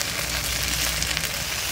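Cumin and coriander paste sizzles steadily in a hot pan while a dry tuna curry cooks, a loud, even crackling hiss close by with no pauses.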